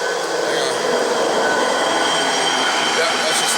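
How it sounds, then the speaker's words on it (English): A railroad police vehicle rolling along the tracks, heard as a steady, continuous rail rumble with metallic wheel squeal and hiss, fairly loud and unbroken throughout, with no talk. "Don't mind that noise, that's just the railroad police driving by."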